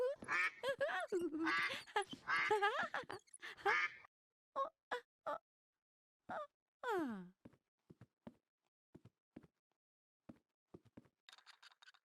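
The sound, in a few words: plastic toy duck pulled on a string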